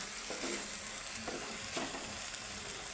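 Flat beans and curd curry simmering in oil in a pan, a steady close sizzle and bubbling with a few soft stirring scrapes, no voices.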